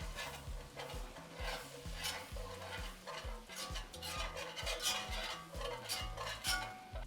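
A whisk works flour into a roux for mac and cheese in a pot, scraping steadily in a quick, repeated rhythm, with a soft sizzle underneath, close and continuous, with no talking.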